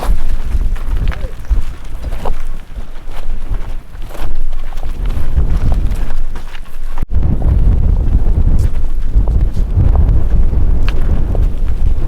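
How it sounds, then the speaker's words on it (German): Strong wind buffets the microphone in the Ahaggar mountains of Algeria, with loud, continuous low roaring gusts, one brief cutout partway through, and scattered rustling and knocking. "Der Wind ist so stark, dass man sich kaum auf den Beinen halten kann."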